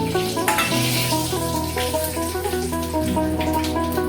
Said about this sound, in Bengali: ফোড়নে দিলাম অল্প একটু কালো জিরে আর 2টো তেজপাতা।